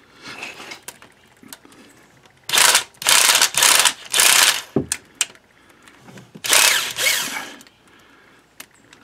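Power tool driving out 10 mm bolts on a 1997 Toyota Camry during a transmission service, five loud close bursts of whirring and rattling separated by short pauses, with quiet clicks and handling noise between.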